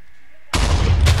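Loud cannon blast in a pirate battle royale video game, a sudden booming report that starts about halfway through and rolls on with a second surge near the end.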